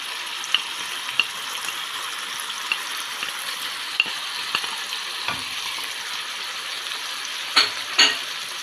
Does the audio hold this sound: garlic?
yes